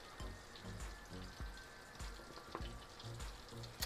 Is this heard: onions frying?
yes